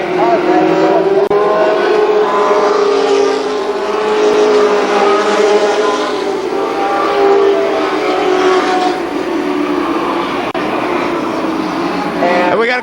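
Super late model race cars roar around a speedway in 1994, a continuous loud engine drone with passing swells, heard under a race announcer's steady commentary.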